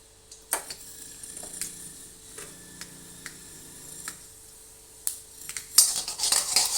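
Mustard seeds and urad dal spluttering in hot oil, heard as sparse, faint pops and ticks that build into a louder burst of crackling near the end.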